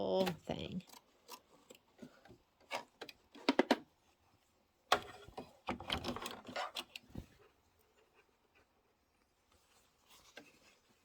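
Scissors snip through plaid fabric pieces being trimmed for a quilted Halloween pillow block, giving irregular bursts of crisp cuts, fairly close, with pauses and light handling noises between them.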